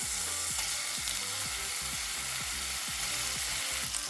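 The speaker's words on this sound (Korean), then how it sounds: "양파를 볶아줍니다." Chopped onions frying and stirring in an oiled pan for a pork neck steak with doenjang sauce: a steady close hiss with repeated rhythmic scraping strokes roughly every half second, no voices.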